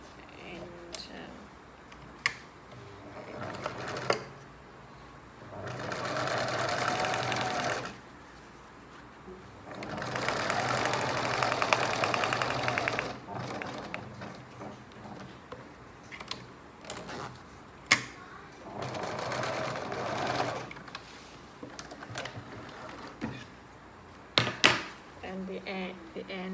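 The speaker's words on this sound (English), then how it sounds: "I'm going to stitch it up here" Sewing machine stitches a zip onto a small fabric pencil case pouch in several sustained runs of rapid mechanical clatter, separated by pauses with soft handling knocks and occasional talk.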